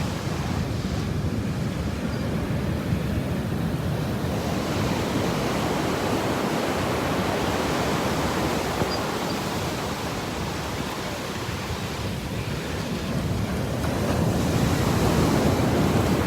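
Ocean waves wash steadily onto a beach, a broad continuous roar of surf with wind across the microphone, no talking.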